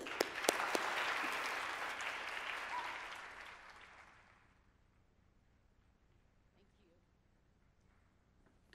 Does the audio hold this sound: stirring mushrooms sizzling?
no